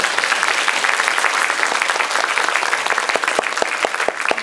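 Steady, full audience applause at a Korean film talk event for the movie Hunt, sustained dense clapping throughout with no voices over it.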